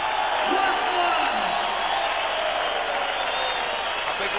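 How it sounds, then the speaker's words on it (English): Boxing arena crowd applauding and cheering loudly and continuously as former WBU heavyweight champion Hasim Rahman of Baltimore is introduced, with a dense, steady roar of clapping and shouts that never drops away. "A big round of applause, but then there's always a round of applause for the underdog"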